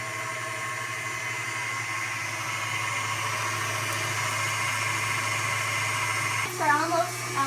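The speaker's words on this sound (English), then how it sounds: "And then start mixing." A stand mixer whips sugar into meringue for ube macarons, its motor holding a steady, close whine throughout, with a brief voice and a bump near the end.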